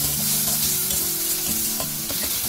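Homemade ginger garlic paste hits a hot frying pan, a loud, close, continuous sizzle with scraping stirs and small clinks of the utensil running under it.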